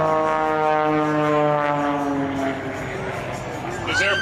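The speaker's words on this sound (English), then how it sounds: "It is powered by a U.S.-made engine, a Lycoming 300 horsepower, and it's turning a composite propeller" An Extra aerobatic airplane with a 300-horsepower Lycoming engine and composite propeller drones steadily at an air force base airshow, its engine note sliding lower as it passes, fairly loud and alone.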